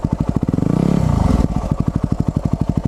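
Motorbike engine running near and loud, a rapid regular pulsing putter that swells into a brief rev around the middle, then settles back to a steady chugging idle.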